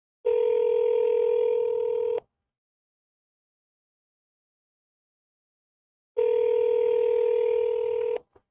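Telephone tones when calling a seller: two long steady tone bursts of about two seconds each, separated by a few seconds of silence, clear and close, with a brief click at the end.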